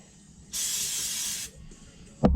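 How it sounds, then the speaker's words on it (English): Brake cleaner sprays in one steady hissing burst lasting about a second, close by on a truck, followed by a short clatter at the end. "Brake cleaner, the magic juice."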